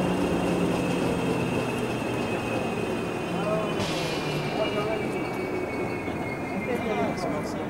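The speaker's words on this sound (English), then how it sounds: "as the electric hauled train passed over the Vltava" Electric-hauled train crossing a bridge over the Vltava, a steady rumble of rolling wagons with faint wheel squeal rising midway, broadband and continuous throughout, with a voice talking over it.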